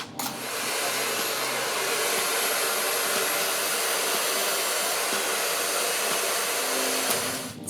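A hair dryer blows steadily at close range while drying hair, a loud continuous whooshing roar that holds even throughout, with no one speaking.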